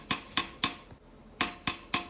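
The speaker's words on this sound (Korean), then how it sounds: "다시 플레싱 망치를 이용해서 표면을 고르게 만들어줍니다" A planishing hammer strikes a copper ladle bowl being smoothed after annealing, giving six sharp, ringing metallic blows in two sets of three, with a short pause between the sets, close and clear.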